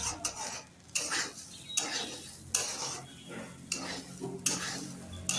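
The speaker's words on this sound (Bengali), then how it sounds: "ডালার চালটা এবারে নেড়ে চেড়ে ভালো করে ভাগ করে নিচ্ছি" Rice for khichuri being stirred and divided up by hand, with close, rhythmic scraping and rustling strokes repeating roughly once a second, each swelling then fading, with no talk.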